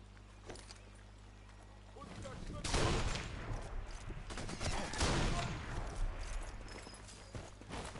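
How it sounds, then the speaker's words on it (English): Gunfire in the video game Sniper Elite 4, a rumbling burst of distant shots and explosive crackle rising after a quiet start, with a voice faintly over it. "is he shooting them?"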